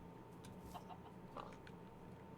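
Chickens clucking in Minecraft, a few soft scattered clucks over quiet background ambience, faint and fairly distant with no talking.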